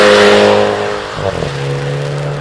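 Mini with a 1.6-litre four-cylinder engine accelerating hard up a hill climb course, a loud close engine roar that holds high, dips briefly around a gear change, then pulls on at a lower steady drone.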